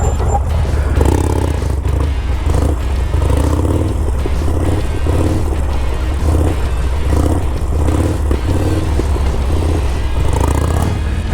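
A Harley-Davidson Sportster motorcycle doing handbrake circles, its engine rumbling steadily and close by, with repeated revving swells as it loops around.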